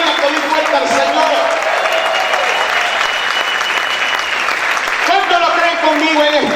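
A church congregation at a sermon claps hard and shouts in praise, a loud, continuous roar of applause and cheering filling the room, with voices rising over it.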